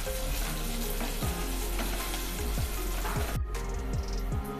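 Curry leaves and green chilies sizzle and fry steadily in a pan for rava idli, with repeated stirring scrapes punctuating the loud, continuous crackle and no talking.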